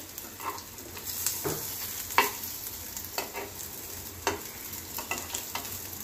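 A paratha roasts in a pan with a soft, steady sizzle, broken by repeated scraping and pressing strokes of a spatula close by, and no voices.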